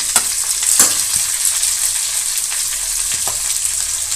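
Onion, green chili, curry leaves and tomato fry in a pan for a poori potato masala, a steady close sizzle with occasional stirring scrapes and no talk.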